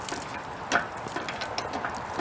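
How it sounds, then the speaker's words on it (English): Engine hoist hydraulic cylinder being pumped to pull a tree stump outdoors, giving soft mechanical clicks and a ratcheting knock over steady background noise, close but faint, with no talking. "I've closed the air release on the cylinder and start pumping it up, and I will start to add tension"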